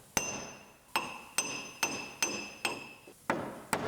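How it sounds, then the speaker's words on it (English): Hammer blows pound damaged sheet-metal floor of a Ram ProMaster City van back into place, eight sharp ringing metallic strikes spaced roughly every half second, close and loud with no talk. "So we'll just hammer it into place."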